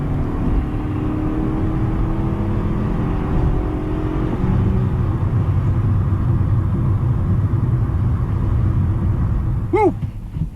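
A 2006 Acura CSX pulls hard in a burnout, its engine roaring loud and close as a steady rumbling whir with a brief shift partway through and a short squeal near the end.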